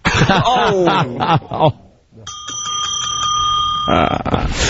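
A bell rung in a radio studio during a talk show, giving a sustained bright ringing tone with steady overtones that lasts a couple of seconds after people talk and chuckle just before it.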